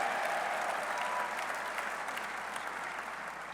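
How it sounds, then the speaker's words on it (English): A crowd at a West Virginia University football head coach's introductory press conference claps steadily, a dense burst of applause that tapers slightly toward the end. "give that a round of applause"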